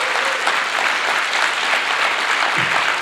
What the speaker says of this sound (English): Can we give the class of 2022 a Northern Cape hand round of applause?